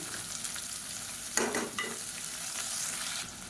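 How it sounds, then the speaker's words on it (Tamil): Lengthwise-sliced onions sizzle and fry in a hot pan for egg curry, a steady crackle with a brief scrape of stirring partway through. "இப்போ இந்த வெங்காயம் வதங்கிட்டு இருக்கையிலே"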